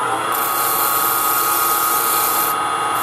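A shallow fluted spindle gouge scraping steadily against spinning wood on a lathe, a loud continuous rough rasp that slips briefly off the wood, with no talking.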